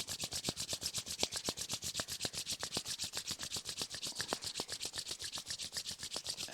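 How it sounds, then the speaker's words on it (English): Two palms rub briskly together in a steady back-and-forth rhythm, a dry close-up swishing repeated many times during a hatha yoga class, with no talking. "Now we can rub our hands together."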